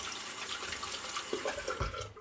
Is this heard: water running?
yes